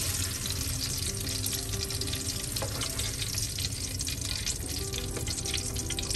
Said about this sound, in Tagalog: Magigisa tayo ng bawang sibuyas.